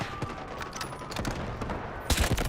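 Gunfire in the video game Delta Force Hawk Ops comes as rapid clustered shots, fairly quiet at first, ending in a louder burst of several sharp cracks.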